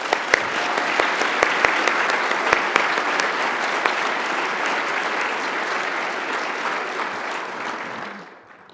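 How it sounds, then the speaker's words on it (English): Sustained applause from a large gala audience fills the room, dense and steady with scattered sharper claps on top, holding level for several seconds before tapering off at the end. "Please join me with a warm round of applause for all"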